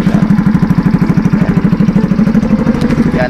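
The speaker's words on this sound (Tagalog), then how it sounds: "pinapainit ko na muna yung motor natin." A motorcycle engine warms up at idle before a ride at an adventure park, a loud, close, rapid chugging pulse that repeats evenly and steadily throughout.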